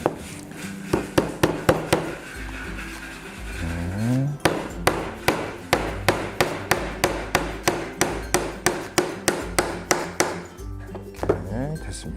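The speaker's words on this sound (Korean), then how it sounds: "또 못을 박는 게 어려워요" A hammer drives nails into a wooden book stand, a loud series of sharp, evenly spaced blows close by, with a voice speaking in between strikes.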